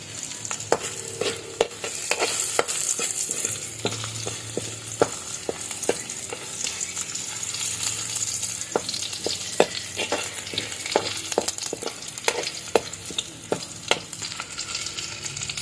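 Ground beef sizzling and being stirred in a pan over a wood fire, a steady fry with frequent sharp clicks of a utensil scraping the pan, close and fairly loud with no voices.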